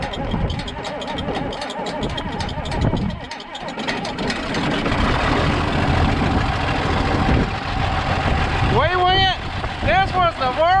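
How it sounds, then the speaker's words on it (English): A cold John Deere 4230 tractor engine idles loud and close with a rough, steady diesel rumble, while a person talks over it and high squealing sounds come near the end. "4230 cold start, and it is cold."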